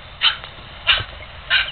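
Three short, sharp barks from a dog in the Nintendogs game, spaced evenly and fairly loud, with nothing else around them.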